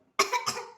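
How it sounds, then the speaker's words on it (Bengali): A child's cough at home, two quick close bursts in a quiet room. "কাশি হচ্ছে?"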